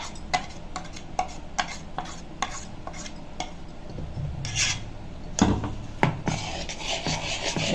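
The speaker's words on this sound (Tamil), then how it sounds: "இப்போது நம்ம இந்த வெள்ளைப்பாகில் இதை குத்தி நல்லா கெட்டியாக இந்த மாதிரி கரைச்சி வச்சுக்கலாம்" Semolina batter is stirred into white sugar syrup for rava appam, giving repeated close scraping and rubbing strokes against the pan with small ticks, steady and moderately quiet, no talk.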